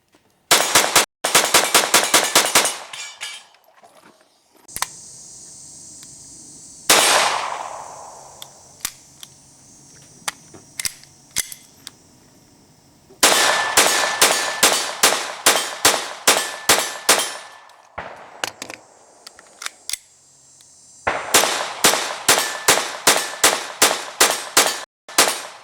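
Sig Mosquito .22 Long Rifle pistol fired in fast strings of sharp, close cracks, several bursts of about ten shots each separated by pauses with metallic handling clatter.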